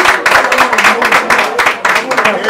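Audience at a ticket-giving gathering claps steadily in a brisk, continuous patter, fairly close and loud, with a voice carrying over the applause.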